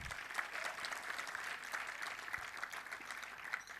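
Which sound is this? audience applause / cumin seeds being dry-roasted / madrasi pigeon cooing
audience applause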